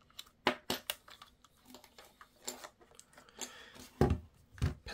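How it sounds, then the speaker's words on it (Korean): A coin turns in the battery chamber cover on the underside of a Canon Autoboy Zoom film camera, giving a series of close, sharp clicks and scrapes in irregular bursts. "배터리 챔버는 이렇게 동전으로 여시는 게 편합니다"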